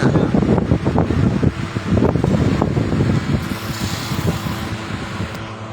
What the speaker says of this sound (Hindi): ओ कूलर की आवाज है